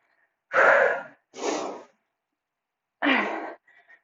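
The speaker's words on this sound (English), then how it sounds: "I'm breathing heavy" Heavy breathing during a home workout: three loud, close, breathy exhales and gasps, two in quick succession, then a pause and a third, with a faint trailing breath at the end.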